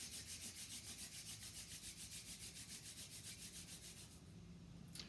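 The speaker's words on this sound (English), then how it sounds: "Rub your hands together." Hands rubbing together during a kundalini yoga class, a steady run of quick, rhythmic brushing strokes, close and quiet, with no talking.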